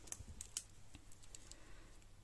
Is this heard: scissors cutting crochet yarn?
yes